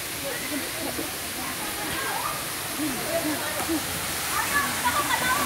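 Busay Falls on Camotes Island rushes in a constant broad hiss of falling water, with people talking over it.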